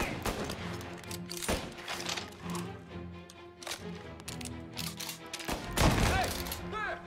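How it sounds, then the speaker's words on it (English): Gunfire from the video game Mafia as the player shoots from behind cover: repeated sharp gunshot bursts at an irregular pace, some loud and close, over a steady game soundscape. "Oh, I can shoot behind the cover."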